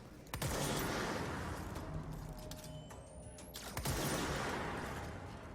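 The player's gun in the video game Control fires in rapid bursts, producing a dense, loud rattle that eases off midway and then picks up again with a sharp crack at the end.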